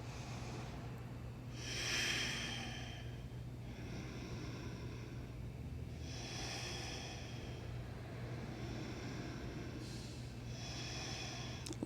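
Soft breathing during a yoga flow for the neck and shoulders, with slow, airy breaths that come and go about every four seconds over a low, steady hum.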